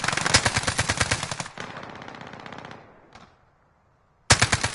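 Rapid bursts of automatic gunfire from a PS4 shooter video game, loud and dense, then a trailing echo that fades to silence before another sharp volley erupts.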